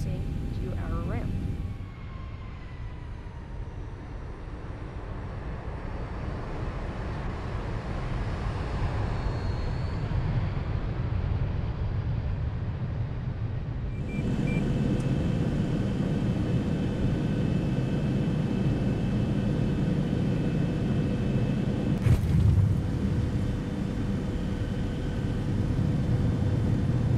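Jet engines of a Zibo Boeing 737-800 in X-Plane 11 drone steadily while the airliner taxis to the ramp, a continuous low rumble with a broadband roar that swells partway through, under ongoing talk.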